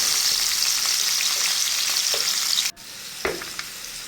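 Cut pumpkin pieces drop into hot oil in a wok, giving a loud, steady close sizzle that breaks off abruptly near the end before a quieter frying hiss and a light clatter return.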